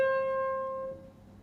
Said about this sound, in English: you play the note below it, and then back to the note really fast